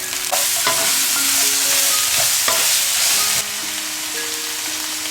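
Carrot, lettuce and leafy greens stir-fried in a hot pan with oyster sauce, a loud continuous sizzle with spatula scrapes and tosses, easing slightly partway through.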